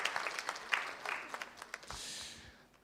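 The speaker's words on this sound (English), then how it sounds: "Please, a round of applause." Audience applause at a national science quiz championship launch event, a short burst of scattered clapping that trails off after a few seconds.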